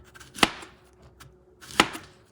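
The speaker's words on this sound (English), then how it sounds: "then you cut them in" Two crisp knife chops through plantains land on a cutting board about a second and a half apart, close and distinct, with quiet shuffling in between.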